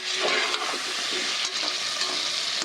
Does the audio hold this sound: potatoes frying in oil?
yes